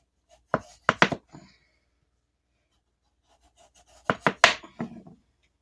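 A knife chops butternut squash into rounds on a cutting board: two short bursts of three or four firm, crisp thunks each, close by, separated by a pause of near silence.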